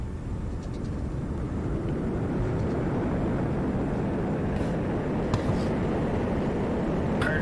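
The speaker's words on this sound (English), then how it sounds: "Reverse thrusters." A Boeing 767-332ER with Pratt & Whitney engines lands in FS2004 with its reverse thrusters roaring: a steady, broad, low-heavy rumble that stays constant throughout, with a faint click or two near the end.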